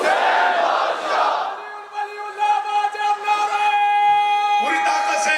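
A crowd at a Muharram gathering in an imambargah shouts a religious slogan in unison, a loud massed roar in short bursts with a sustained, tonal chanted call between them.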